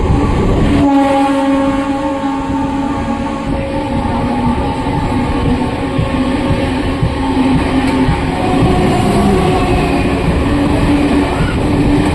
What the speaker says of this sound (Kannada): ಯಾವುದೋ ಒಂದು ಟ್ರೈನ್ ಬರ್ತಿದೆ may be Bengaluru Haasan MEMU ಇರಬೇಕು